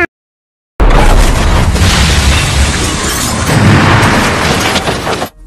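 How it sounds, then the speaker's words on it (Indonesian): Grenade hurled into a room bursts after a brief silence, a loud booming blast with a long rumbling, crackling tail that fades over several seconds. "Hans pun memutuskan untuk menerobos masuk dan melemparkan sebuah granat ke dalam kamar"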